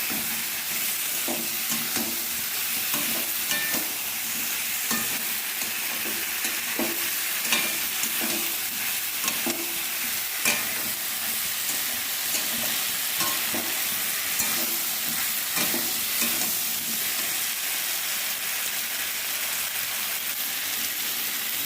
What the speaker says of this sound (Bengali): কষানো মশলার মধ্যে আমি আবার পটল আর আলুগুলোকে ঢেলে দেবো সামান্য কষিয়ে